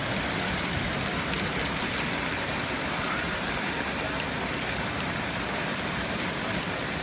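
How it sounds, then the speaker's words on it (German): Heavy rain pours steadily during a thunderstorm in Cologne, a dense, continuous hiss of water hitting the street and surfaces, loud and unbroken throughout. "mit so einem Regen"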